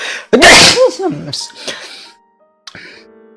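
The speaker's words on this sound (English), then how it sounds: "Forgive me for the sneeze." A single loud, close sneeze bursts out, followed by a brief voiced sound and a short pause, then a faint clipped noise.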